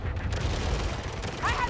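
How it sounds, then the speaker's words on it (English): Massed rifle gunfire in the real-time strategy game EndWar sounds as a dense, steady rumbling rattle of distant shots, with a brief whistling streak near the end. "Jesus, that's a lot of rifles."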